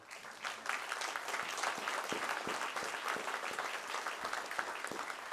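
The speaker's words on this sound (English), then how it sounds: "This is your second round of applause today." Audience applause for a student award winner called up at a technical high school awards and scholarships ceremony: steady, dense clapping from a sizable crowd, sustained at even strength throughout with a few sharper nearby claps standing out.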